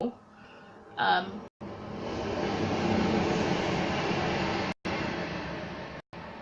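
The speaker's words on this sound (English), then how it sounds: "I need to close the window because that train goes past like every 15 minutes" A steady rumbling roar of a train passing outside a window fills the background, fairly close, with a brief swell near the start and a few abrupt cutoffs.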